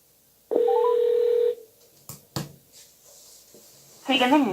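A long, steady telephone tone sounds close and clear, followed by a few sharp clicks and handling noises, and then a voice begins speaking.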